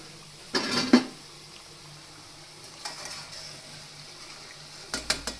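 A utensil scrapes and clinks against a pan while lifting crispy fried green peas out, with soft sizzling between a few scattered metallic knocks, close and fairly quiet.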